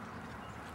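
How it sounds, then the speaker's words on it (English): Ducks quack on a pond in Bloomfield Park, New Jersey. The quacking is faint and comes in a short burst under steady outdoor background noise. "The ducks out here in the pond."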